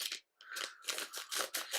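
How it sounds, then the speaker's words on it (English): Scissors snip through the packaging of a 1/2 ounce 3DB knuckle bait fishing lure, a series of close, crisp crunching cuts with short pauses between them. "I'm gonna use scissors."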